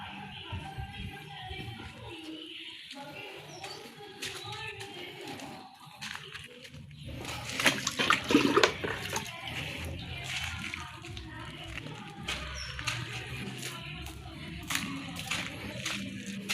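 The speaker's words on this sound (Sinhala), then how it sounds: "ඔය වගේ මෙතන තියෙන මේ මල් පැල ඔක්කොට මම වතුර දා ගන්නවා" Water from a cleaned fish tank poured onto potted flower plants, splashing and trickling with a louder gush in the middle, accompanied by some handling noise, with no talking.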